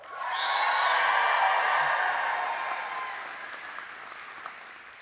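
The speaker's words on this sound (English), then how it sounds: "let's hear the biggest cheer of all." Graduates at an Athabasca University convocation cheer and applaud in a broad, sustained roar that swells quickly, holds, then slowly fades with scattered claps toward the end.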